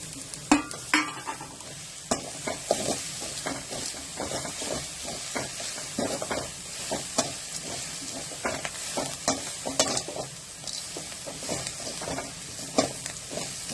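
Coconut and curry leaf chutney mixture stirred in a pan, repeated spoon scrapes and knocks over a constant frying sizzle, close and busy with no voices.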